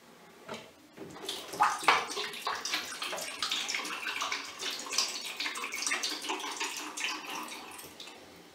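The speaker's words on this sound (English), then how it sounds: "I'm going to pour it in my developer." CineStill DF96 monobath developer poured into a film developing tank for Fomapan 200, a steady liquid splashing and gurgling that runs continuously for several seconds, close and fairly loud with no talking.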